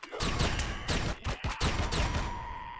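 A pulse rifle in Empyrion Galactic Survival fires a rapid string of sharp energy shots, loud and close, with brief gaps between bursts.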